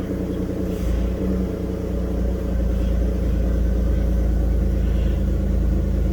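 An Alfa Romeo with a Busso V6 at 88,000 miles idles just after start-up, a close, loud, even engine rumble running throughout without speech.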